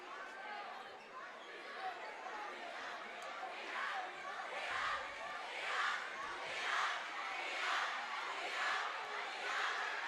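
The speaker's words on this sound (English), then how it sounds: "Crowd energy increasing." Spectators at a high school basketball game, Bloom's visitors in the gym, with a broad crowd roar that swells in pulsing waves, building louder toward the end, heard from within the stands.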